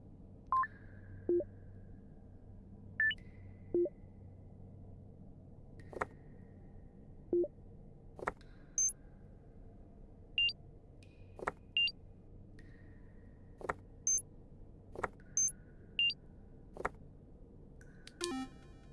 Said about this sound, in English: And there's different beeps.